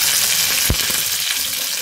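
Curry leaves hitting hot oil with dried red chillies for a buttermilk curry, a loud steady sizzle with one sharp burst as they drop in, no talking.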